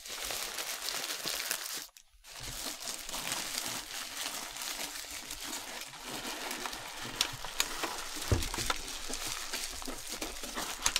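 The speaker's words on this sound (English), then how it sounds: "We've got the same soft, crinkly plastic bag on it." Soft plastic bag wrapped on a Neato robotic vacuum being handled during unboxing, giving a steady close crinkling and rustling for the whole stretch, with one brief pause early on.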